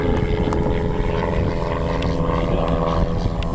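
A Pitts S-1T biplane flying at an air show, a steady propeller engine drone heard from a moderate distance with a continuous hum and no clear voices over it.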